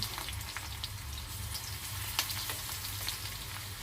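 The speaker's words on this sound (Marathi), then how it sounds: "आता मी पहिला लसूण घालते याच्यामध्ये मिरची तर आपण परतून घेऊयाचं" Garlic and green chilies frying in a pan, giving a faint, steady sizzle with soft crackles and pops, close and continuous, with no speech.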